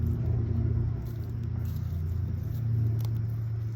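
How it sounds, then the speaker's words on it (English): A heavy truck next door rumbles steadily with a low, continuous drone at moderate distance in a residential garden setting, with no talking. "loud truck next door that comes in and goes."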